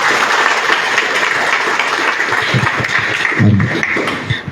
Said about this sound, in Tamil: மிகப்பெரிய அளவில் ஒரு கைத்தட்டு